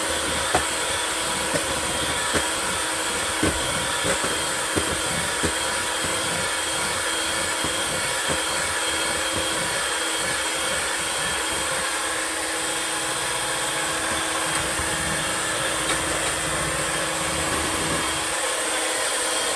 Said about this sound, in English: I'm just going to turn the mixer up and try to get this beat